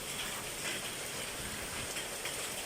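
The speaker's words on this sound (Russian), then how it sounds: "Ой, у нас град." Hail falls on surfaces during a thunderstorm, a dense, steady rattling hiss close by with no pauses.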